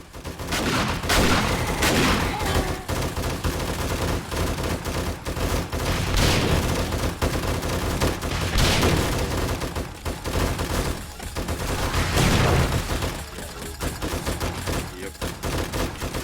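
Automatic turret in the game 7 Days to Die firing nonstop, dense rapid bursts of gunfire pounding loud and close for the whole stretch, with brief slight dips between volleys.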